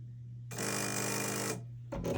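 A home sewing machine switched on, giving a sudden loud steady whirring drone with a buzzy hum underneath for about a second, then cutting out and starting again.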